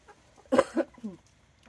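Backyard chickens give a couple of short, fairly close clucks in quick succession, followed by a softer trailing call, with quiet between.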